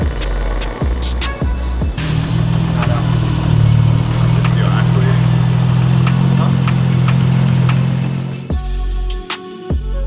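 A Nissan R34 GTR fitted with titanium intakes revs hard at wide-open throttle, a loud sustained engine roar running for several seconds between shorter blips, with sharp pops and gaps at the start and end.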